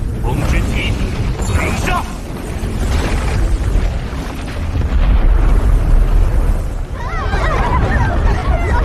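Two powerful attacks collide in an animated martial-arts sword fight, rumbling booms and crackling bursts with swirling energy effects, loud and sustained with a deep low-end swell in the middle.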